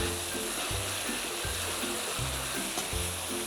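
Fermented soybean paste stir-fried in a hot pan for a pork rad na dish, a steady close sizzle with soft rhythmic scraping strokes repeating throughout and no talk.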